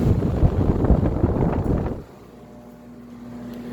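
A water-damage drying air mover with inverse incline blower wheels and its motor mounted on the bottom roars with a loud, steady rush of air, then drops abruptly midway to a quieter low hum.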